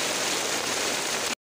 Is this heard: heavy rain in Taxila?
yes